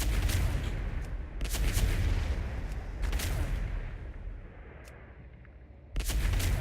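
Gunfire in World of Warcraft rings out in loud, closely spaced bursts with booming reports and decaying tails, separated by brief quieter gaps before another volley.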